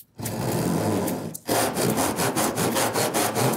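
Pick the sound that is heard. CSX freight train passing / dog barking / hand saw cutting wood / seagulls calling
hand saw cutting wood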